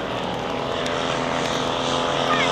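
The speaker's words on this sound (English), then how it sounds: "Over the top, it's called a Piper Cub." A radio-controlled model Piper Cub airplane performs aerobatics at an outdoor model air show, its small engine droning steadily and fairly loud while a commentator talks over it.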